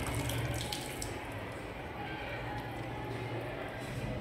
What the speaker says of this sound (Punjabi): ਹੁਣ ਪਾਣੀ ਦੀਆਂ ਧਾਰਾਵਾਂ ਨਿਕਲਣਾ ਸ਼ੁਰੂ ਹੋਣੀਆਂ